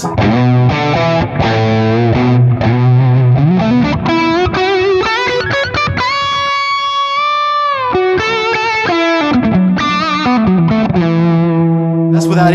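An electric guitar plays a sustained, distorted lead through a Lone Star amp with echo and a loop, bending and gliding notes with singing sustain and audible repeats, loud and alone.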